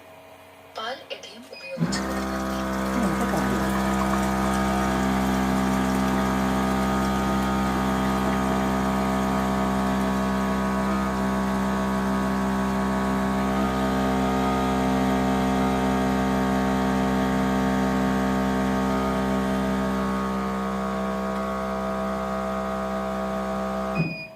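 A milk vending machine dispensing milk: after a brief click, a loud, steady motor-pump hum starts and runs unchanged for about twenty seconds, then cuts off.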